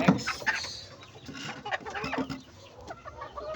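Several gamefowl of a sweater line cluck and chatter at a game farm, a mix of near and farther birds calling irregularly over a busy rural background, with no talking.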